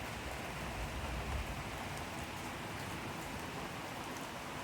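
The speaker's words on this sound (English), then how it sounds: "That's the only part you can tell it's raining." Steady rain falling outdoors, a dense continuous hiss of drops on wet surfaces, even and moderately loud throughout with no voices.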